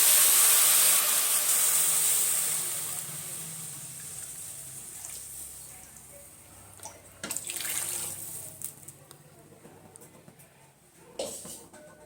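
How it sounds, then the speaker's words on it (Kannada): Water poured into a pot of leg pieces for soup, a loud rushing pour at first that fades into a softer hiss, followed by a few clanks and splashes near the end. "ನೀರು ಸೇರಿಸ್ತಾ ಇದ್ದೀನಿ"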